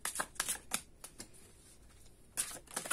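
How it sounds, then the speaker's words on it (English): A deck of tarot cards being shuffled close up, with quick riffling bursts separated by short pauses, quiet and with no voices. "Let's give everything a really good shuffle and see what is going on with you."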